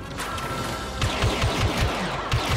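Blaster gunfire in Star Wars Battlefront 2, a run of quick sharp shots in short bursts over steady battle noise, fairly close and loud.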